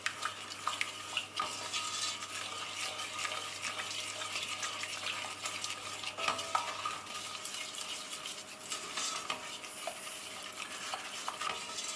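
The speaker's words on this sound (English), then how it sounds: "Just give that a good stir and make sure it's all melted together." A spoon stirs melted honey flapjack mixture in a pan on the hob, with a steady scraping swirl and soft sizzling that run continuously and close up, with no talking.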